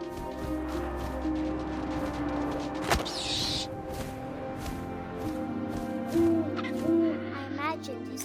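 An owl hoots in the video game What Remains of Edith Finch, repeated calls over a steady low ambient drone with a thump near the middle and faint game sounds around it.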